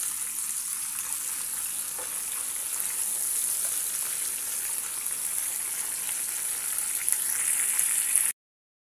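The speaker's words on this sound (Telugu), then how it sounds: "ఈ విధంగా ఆనియన్స్, కరివేపాకు మొత్తం వేసేసుకొని ఇప్పుడు వీటిని ఒక 5 నిమిషాలు అలా ఫ్రై చేసుకుందాం." Onions and curry leaves fry in a pan for a Telugu tomato and egg curry, giving a steady, close sizzle that holds at an even level for about eight seconds before cutting off abruptly.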